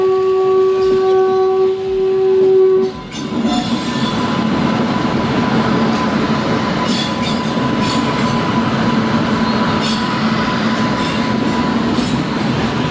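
Train passing on a railway, opening with a loud horn blast, then a long, steady roar of wheels and carriages rolling close by, with repeated rhythmic clatter and a faint high squeal throughout.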